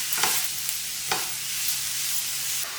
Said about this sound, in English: I start off the Doodhi halwa with a teaspoon of ghee, grated Doodhi that I stir in first